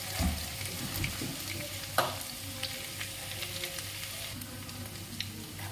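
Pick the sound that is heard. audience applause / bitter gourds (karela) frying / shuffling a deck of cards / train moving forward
bitter gourds (karela) frying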